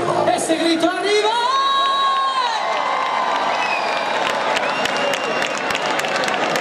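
A crowd cheers, whoops and shouts at an outdoor village fiesta concert by a touring orchestra in Galicia, loud and sustained throughout, with a singer's held voice at the start.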